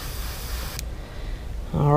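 Soft, steady hiss of an airbrush spraying paint on a fishing lure at about 5 PSI for under a second, then quieter air; a voice begins speaking at the end.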